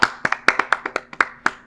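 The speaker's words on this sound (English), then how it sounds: "Shall we clap once for all of you who studied hard today?" A group claps at the end of a study conversation session, producing about ten sharp, separate hand claps in quick, slightly uneven succession, close and clear with no talking.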